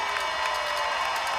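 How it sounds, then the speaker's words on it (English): Steady roar of a football stadium crowd cheering during a college game before a third down, with a broadcaster's voice over it. "Crowd's starting to make a little more noise"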